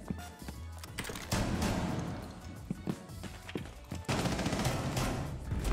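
Rapid, loud shotgun blasts ring out one after another in Rainbow Six Siege, with a cluster early on and heavy bursts near the middle and end over constant game noise and faint footsteps.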